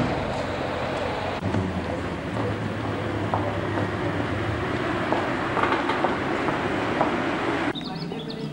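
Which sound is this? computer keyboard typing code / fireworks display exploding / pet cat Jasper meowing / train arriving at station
train arriving at station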